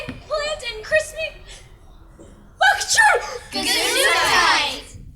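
A child actor sneezes on stage during a children's theater production, a sharp burst following short vocal sounds, with a gasping breath before it and a brief clear pause in between.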